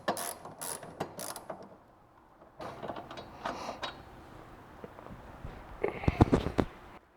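A hand ratchet works loose the nuts and bolts of an X brace on a Toyota MR2, giving bursts of quick clicking pawl ticks with pauses between them. Close and fairly quiet, with no talking.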